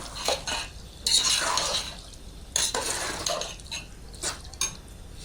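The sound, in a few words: stirring beef biryani kurma in pot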